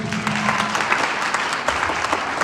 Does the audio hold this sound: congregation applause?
yes